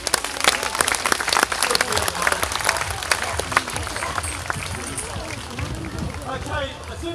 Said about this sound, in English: So how about a big round of applause for Molly?